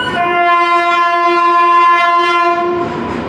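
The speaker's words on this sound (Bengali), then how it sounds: "পাঁশকুড়া থেকে হাওড়াগামী লোকাল" A Panskura to Howrah local train stands at platform 4 of a station, sounding a loud, steady horn blast that holds for about three seconds, with no talking.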